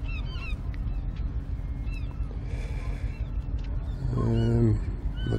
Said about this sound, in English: There's a few seagulls following it in there.